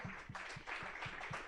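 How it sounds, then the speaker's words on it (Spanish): Church congregation clapping in praise at a Spanish-language service, a short, quiet burst of rhythmic, evenly spaced claps, fairly distant and blending into a soft crowd murmur. "Dele un aplauso al Señor."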